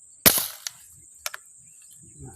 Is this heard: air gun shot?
yes